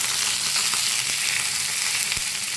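Chopped onions and curry leaves fry in hot oil with a steady, crackling sizzle, occasional sharp pops and a faint stirring scrape, close up with no talking.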